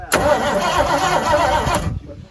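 A 1973 Ford Mustang engine, unused for 12 years, cranks over with a steady whirring churn for about two seconds, then falls quiet, recorded up close with no talking.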